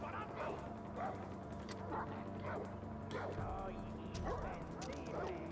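Dog barks and yips in Far Cry 4 sound in bursts through busy in-game noise and a steady hum, fairly faint and mixed with other game effects.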